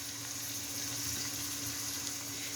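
Chicken mince frying in a pan for a pasta dish gives a steady, even sizzling hiss that runs unbroken throughout, with a faint low hum underneath.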